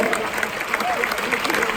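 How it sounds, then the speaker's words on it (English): Audience applause in a room at a summer camp gathering, a dense, continuous spatter of clapping heard throughout the short stretch, with faint voices underneath. "Where's your applause?"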